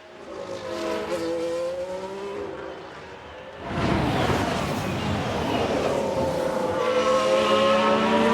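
A Ferrari race car in the F1 Manager 22 video game roars past in a replay, its engine whining and revving up through the gears, with a brief burst of tire noise as it moves through traffic.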